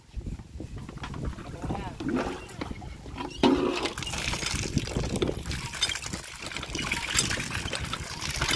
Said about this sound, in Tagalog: Tapon mo na yung tubig kay madumi na.